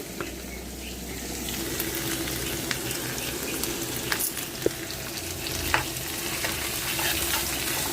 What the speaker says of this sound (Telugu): అల్లం వెల్లిపాయ పేస్ట్ కూడా వేగిపోయిందండి